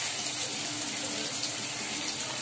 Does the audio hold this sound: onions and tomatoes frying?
yes